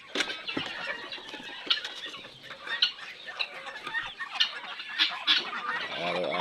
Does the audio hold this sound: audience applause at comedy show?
no